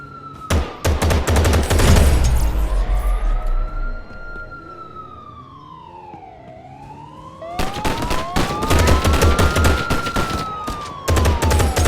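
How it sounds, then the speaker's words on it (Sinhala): Police sirens wail loudly in rising and falling sweeps, cut through by bursts of rapid gunfire near the start and again toward the end, during a police shootout in the GTA 5 video game. "මාත් ඉතින් ඔන්න ඔහේ පොලිසියට වෙඩි තියලා දැම්ම"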